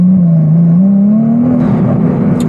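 A Ferrari sports car accelerating hard, its engine note climbing steadily in pitch as a loud, continuous drone close by, with no talking over it.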